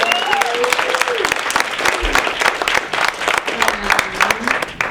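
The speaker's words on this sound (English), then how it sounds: "can we give another round of applause for our panelists?" Audience applause at a town hall forum on care over cost, a dense, steady crackle of many hands clapping throughout, with a voice speaking over it.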